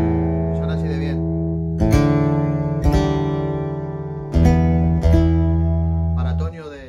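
An Alhambra 3F sycamore acoustic guitar rings out with several strummed chords, each struck firmly and left to sustain and fade, clear and close with no voices.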